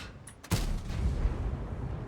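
The Nergal tank's main gun fires once in a video game, a single heavy boom followed by a rolling low rumble and engine noise.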